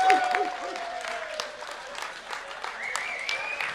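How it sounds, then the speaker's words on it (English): Crowd applause for Jason Lewis, a 50-plus British BMX champion, at a BMX Hall of Fame gathering: steady moderate clapping that holds throughout, with voices talking and calling out over it. "Give him a round of applause."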